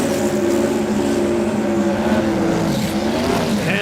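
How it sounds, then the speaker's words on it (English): Turbocharged Pro Mod drag race car at a raceway, a loud sustained engine roar with a droning pitch that wavers and dips toward the end, heard without talk. "And now we go turbo car racing."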